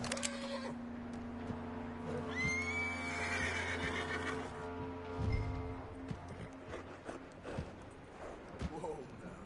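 A horse in Red Dead Redemption 2 whinnies with a rising, drawn-out call, set against a steady ambient hum and a low thud, with some voice activity around it.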